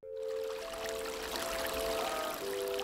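The Big River in Flat Rock, shrunk to little more than a trickle on a hot, hazy summer day, gives a steady, close wash of running water, with a thin, sustained hum running through it.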